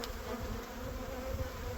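Honey bees swarm and buzz steadily around a frame lifted from the hive, a close, continuous drone with no voices.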